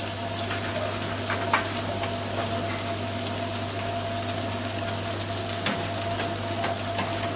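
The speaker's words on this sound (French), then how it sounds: "on rajoute les pommes noix de beurre. Faut pas avoir peur d'en mettre. Et on va faire roussir tout ça." Apples brown in a generous knob of butter in a pan, giving a steady, moderately loud sizzle with faint crackles and a low background hum. No one speaks.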